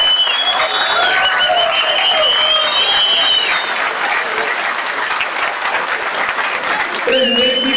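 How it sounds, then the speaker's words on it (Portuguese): Sustained applause from a crowd at a political talk, dense clapping throughout with voices and cheers rising over it, loud and close, easing slightly before picking up again near the end. "Salve de palmas."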